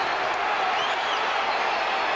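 Crowd at a WBO super middleweight boxing match, Chris Eubank vs. Lindell Holmes, cheering and applauding in a steady, dense roar that fills the whole stretch without a break.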